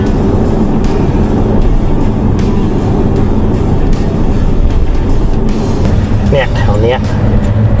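A car rolls slowly along a roadside past amulet stalls. A steady low engine and road rumble runs throughout, with someone talking over it.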